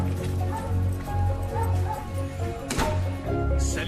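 A dog barks in a steady series of close, repeated yips and then whimpers, while people talk over it.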